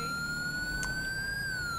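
A police car siren in GTA V with the LSPDFR mod gives a steady, loud, continuous wailing tone over a low engine rumble.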